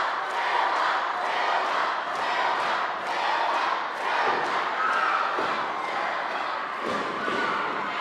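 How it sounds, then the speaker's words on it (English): Wrestling arena crowd roaring and cheering continuously, a loud sustained wash of voices with scattered shouts and thuds, no commentary heard over it. "This crowd is going crazy."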